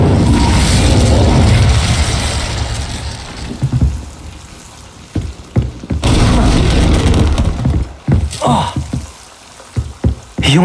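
The Incendio fire spell in Hogwarts Legacy erupts as a loud, sustained roaring whoosh of flames, dying down and then bursting again later, with muffled thuds in between.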